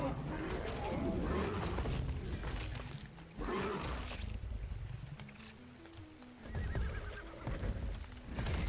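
A horse neighs and whinnies repeatedly in the ARK survival video game, with clip-clop hoofbeats and other game ambience mixed in, at moderate volume with someone talking over parts of it.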